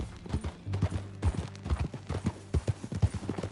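Horse hooves in the Red Dead Redemption 2 video game clip-clop at a brisk, even riding rhythm, close and distinct, with a low musical drone underneath.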